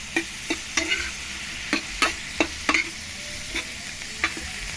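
Tofu fries in a pan while being stirred, a soft steady sizzle punctuated by regular close clacks and scrapes of a spatula against the pan, with no talking.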